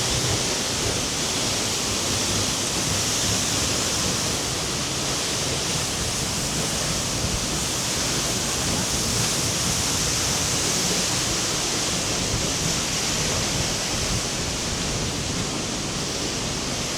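A powerful Icelandic waterfall roars close by in winter, a dense, steady broadband rush of falling water with spray, loud and unbroken throughout.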